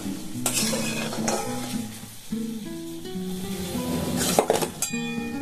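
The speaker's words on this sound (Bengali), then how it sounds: "আমি এগুলোকে এবারে ভালো করে মিশিয়ে নেব" Fried khaja pastries are stirred into sugar syrup in a pan. A spoon clinks and scrapes in an uneven rhythm against a soft sizzle, close up, with a few sharper clatters and no voices.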